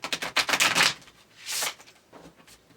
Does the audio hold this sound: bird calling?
no